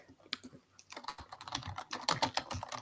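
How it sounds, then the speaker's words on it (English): Typing on a computer keyboard: quick, irregular key clicks at close range, sparse at first and then faster and denser, with no talk. "I'm just typing it here."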